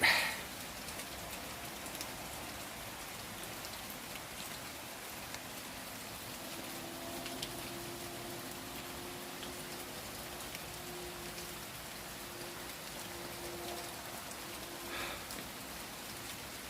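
Steady rain falling outdoors, a continuous even hiss of drops on surfaces that stays constant from start to finish, with no talking.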